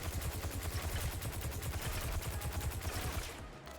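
An automatic gun with heavy recoil fires in a video game, a loud, sustained rapid burst of shots that runs unbroken and cuts off near the end.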